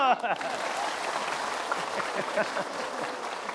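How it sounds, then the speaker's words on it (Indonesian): An audience at an Islamic sermon gathering applauds in a steady, continuous patter, moderately loud, with voices and laughter mixed into the crowd sound. "Tepuk tangan lu."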